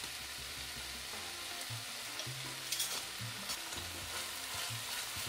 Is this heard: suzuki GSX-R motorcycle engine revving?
no